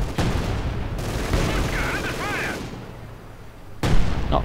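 A light artillery barrage in a World War II strategy game sends loud, rumbling bursts of fire across the clip. Explosive thuds overlap, ease off for a moment, then a sharp blast hits near the end.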